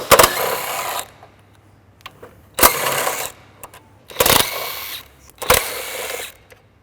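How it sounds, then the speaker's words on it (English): A power tool with a 12mm socket zips bolts on a 2016+ Toyota Tacoma rear bumper install: four loud, separate bursts of rapid ratcheting drive, each about a second long, with quiet gaps between. "We'll grab a 12mm socket and we'll start zipping back all these bolts."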